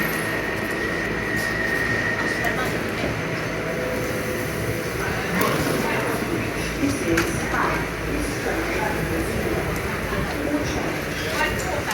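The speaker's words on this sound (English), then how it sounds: "there's one of the better trains over there on platform 9 about to form a Lewisham or Woolwich Arsenal service" Train rumble and rattling wheels at Bank Station on a London rail platform, a continuous dense clatter with occasional squeals and clunks, moderately loud and enclosed, with faint voices in the background.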